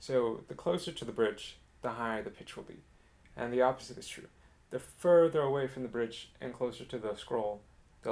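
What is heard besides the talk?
No everyday noise stands out behind the speech.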